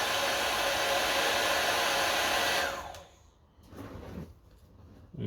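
A Wagner Furno 500 heat gun blows with a loud, steady airy roar, then cuts off, leaving quieter clicks and handling noises.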